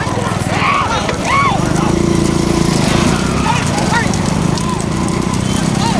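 Bulls pull racing carts in a village bullock cart race, hooves clattering steadily beneath a loud crowd and commentator shouting throughout, with sharp whistle-like calls rising above the din.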